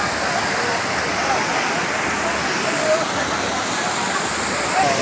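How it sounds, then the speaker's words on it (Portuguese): A waterfall at Bonito, Pernambuco roars as a broad, steady rush of falling water, loud and continuous without pause. "Realmente eu estou aqui na cachoeira"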